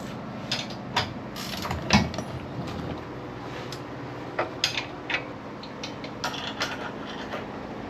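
Mechanical clicks and ratcheting as nut plates are tightened down on a closed fiberglass press mold for a Corvette hood, a series of sharp ticks and knocks spread irregularly over a low workshop hum.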